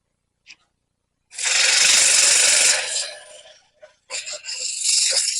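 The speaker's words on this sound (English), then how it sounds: "And do a little sanding." Harsh, steady rasping of sandpaper on a cherry wood bowl for about two seconds, fading out, then resuming in shorter scrubbing strokes after a brief pause.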